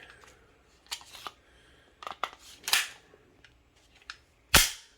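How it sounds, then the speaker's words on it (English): A Walther PDP pistol fires several sharp, cracking shots at irregular intervals, heard from a short distance outdoors. The final shot is the loudest and closest. "The Walther shot great."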